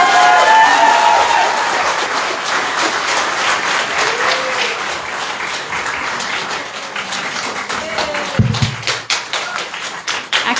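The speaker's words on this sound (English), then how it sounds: "So can we please give a round of applause for our contestants?" Applause from an audience for Miss Pacific Islands pageant contestants after their pre-pageant interviews, loud sustained clapping with some sharp individual claps and a few faint voices underneath, tapering slightly near the end.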